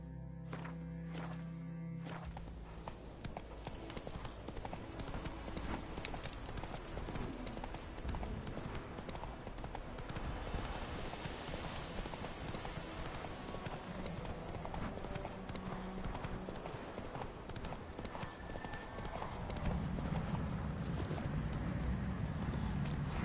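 Roach, the horse in The Witcher video game, trots along in a steady clip-clop of hooves, close and continuous over an ambient outdoor bed with faint birdsong, the footfalls growing a little louder toward the end.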